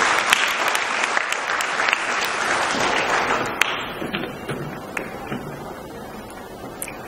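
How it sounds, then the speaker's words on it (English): Loud audience clapping at a children's charity centenary celebration in Nigeria, dense at first then thinning to scattered individual claps as it tapers off. "My clappers, help me clap now"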